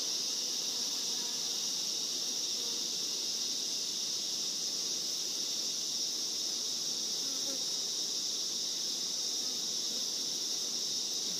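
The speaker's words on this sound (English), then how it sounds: "See the bees" Constant high-pitched buzzing of many bees humming together at a hive entrance, steady and unbroken over a quiet low background.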